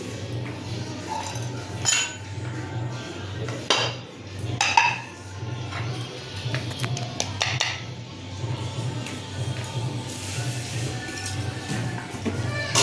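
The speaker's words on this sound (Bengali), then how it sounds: "আমার পরের খাবারের থালাটা সাজিয়ে ফেলি।" Ceramic plates and metal cutlery clink and clatter while a home meal plate of rice and fried papad is set out, with irregular sharp knocks and rattles over a low steady hum, close by, with no voices.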